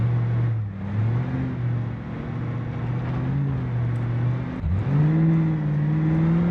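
A diesel squarebody pickup with a flatbed drives in BeamNG Drive, its engine droning steadily and rising in pitch through the gears, with a brief dip and a shift near the end. It sounds close and continuous, with no talking.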